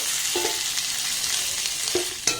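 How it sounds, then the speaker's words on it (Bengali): Pointed gourd (potol) frying in oil in a pan, a steady broadband sizzle with a few scraping stirs of a spatula and a sharp clink near the end, no voices. "এটাকে ঢাকা দিয়ে দিয়ে খুব ভালোভাবে পটলটাকে আমি ভেজে নেবো"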